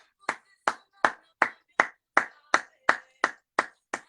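A church congregation clapping together in a steady, even beat, about eleven sharp claps in unison at roughly two-fifths of a second apart, close and clear with silence between.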